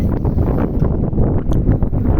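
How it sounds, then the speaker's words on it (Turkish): Strong outdoor wind buffets the microphone with a steady, dense roar that rumbles loudly and close for the whole moment, with no voices. "Burası daha da rüzgarlıymış."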